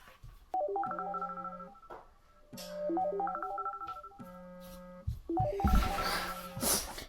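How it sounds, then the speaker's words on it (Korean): A phone alarm plays a repeating electronic melody of bright beeping tones, three times with short gaps, with some rustling noise during the last round. "이 와중에 약 먹으라고 알람 울리는데."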